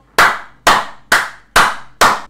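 Five loud, sharp hand claps, evenly spaced about half a second apart, each ringing briefly before the next, with no voices.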